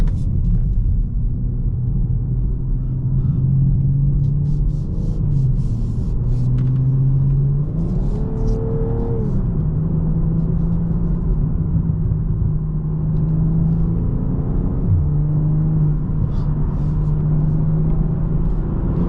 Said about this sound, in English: Decent amount of traffic on this highway today too